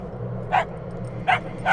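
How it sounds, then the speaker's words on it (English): A dog barks three times in short, sharp bursts, the first alone and the last two closer together, over a quiet low background hum with no speech. "What are you barking at?"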